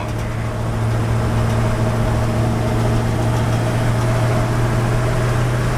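A 1971 Chevy truck engine idles close by with a steady, deep, even drone and a constant low rumble, loud and unbroken with no voices.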